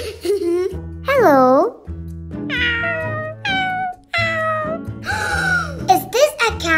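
Cartoon-style cat meows in an animated children's scene, several drawn-out, pitch-bending calls one after another over background music, loud and close.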